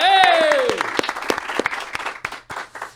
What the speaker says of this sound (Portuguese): vou pedir pro nosso auditório nos ajudar com palmas